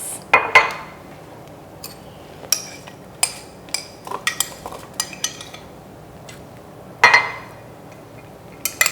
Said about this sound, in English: Now let's add the fruit. I would like to have some apple and some papaya.